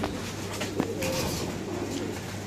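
A pigeon coos softly and low over steady background noise while being fed wheat, with one brief louder note partway through.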